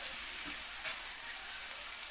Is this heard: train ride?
no